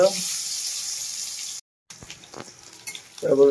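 Onions and spices fry in hot oil in a cooking pan, a steady close sizzle with stirring clatter and scraping, broken by a brief gap before louder pan noises return.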